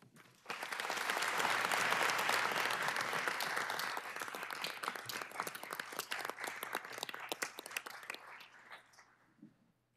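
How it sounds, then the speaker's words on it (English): Audience applause at a city council meeting during a State of the City address, a dense, steady wave of many hands clapping that swells early, holds, then thins to scattered claps and fades out. "We applaud you, sirs."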